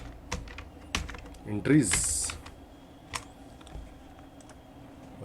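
Clicks of a computer keyboard while someone types in MS Excel: a few scattered, fairly crisp key taps under someone speaking Hindi.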